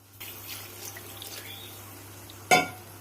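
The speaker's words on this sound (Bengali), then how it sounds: "আর একটু জল দিতে হবে" Water is poured into a cooking pot for a bottle gourd curry: a steady, close splashing stream runs for about two seconds and ends with a sharp metallic clank.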